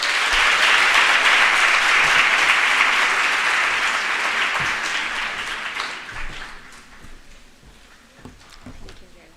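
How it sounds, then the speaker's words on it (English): Applause from a career day audience after a talk, a full, steady round of clapping that gradually thins and fades out over about nine seconds, with a few last claps trailing at the end. "Let's give her a round of applause once more."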